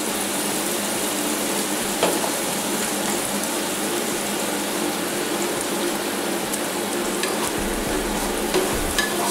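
Creamy pasta sauce for rigatoni alla norcina simmers and sizzles steadily in a pan while a spoon stirs through it, a close, continuous bubbling hiss with soft scraping and no talking.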